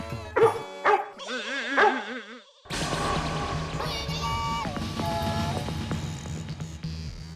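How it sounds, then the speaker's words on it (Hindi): A dog barks in a quick burst of loud, close yaps at the start, followed by music and other indoor sounds in a sitcom scene. "इनको देख के भौंक क्यों रहा है?"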